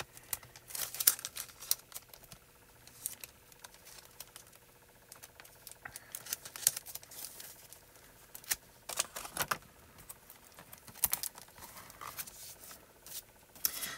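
A toner sheet is handled at a paper-crafting table, giving faint scattered crinkles and rustles in short irregular bursts, close but quiet.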